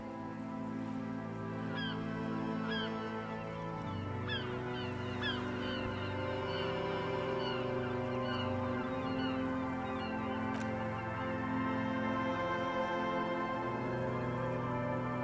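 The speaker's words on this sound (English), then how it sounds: "Nothing but the sound of seagulls high above in the sky, echoing like distant laughter." Seagulls cry and squawk in a video game, repeated high calls over a steady ambient bed, moderately distant and with no talk.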